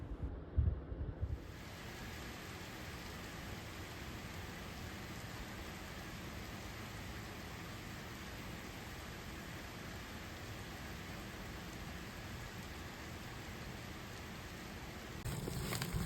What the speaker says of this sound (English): It's raining a lot right now and it's so humid